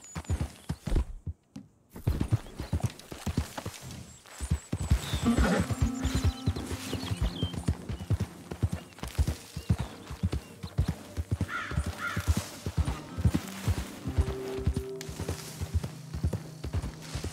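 Horse hooves clip-clop steadily in Red Dead Redemption 2, with occasional whinnies and bird caws, set against a busy ambient game soundscape with a low musical hum.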